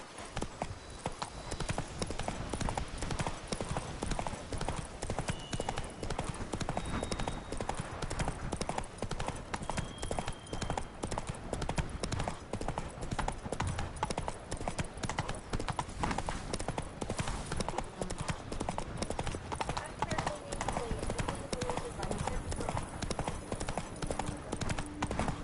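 Horse Roach's hooves clip-clop steadily in a fast trot throughout, loud and continuous in the Witcher 3 video game, with a faint whinny possible and light game ambience beneath.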